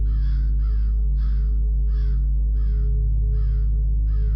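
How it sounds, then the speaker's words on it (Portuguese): Crows caw again and again in an even rhythm, roughly seven calls spaced about half a second apart, heard over a steady low hum with no one talking. "As aves o acompanharão"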